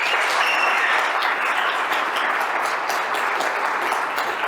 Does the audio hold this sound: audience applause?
yes